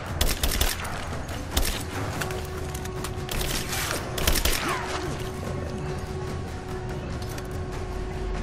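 Rapid bursts of gunfire in Rise of the Tomb Raider crackle in quick clusters over a constant mechanical hum and low background rumble, with sporadic clicks and rattles.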